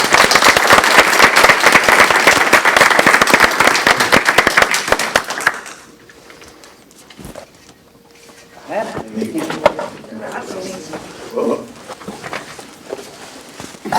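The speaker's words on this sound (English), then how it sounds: "So let's give Alice a round of applause." Applause from the audience at a school board meeting honoring a master teacher: loud, dense clapping for about five seconds, then it cuts off, leaving quieter room noise with faint voices.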